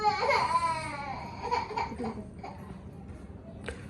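A child cries and wails in a home during the morning rush before school, sobbing in rising, broken bursts that fade into a few softer whimpers.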